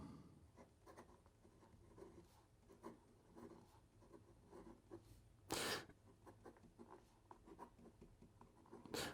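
A Visconti Opera Demo fountain pen with a fine nib writes on paper, producing a soft, close, continuous scratching with short rhythmic strokes and one louder scrape midway.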